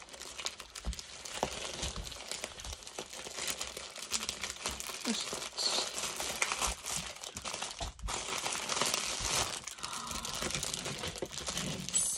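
Crinkly plastic mail-order packaging is torn open and crumpled by hand up close, a loud continuous rustling and crackling with sharp tearing bursts throughout.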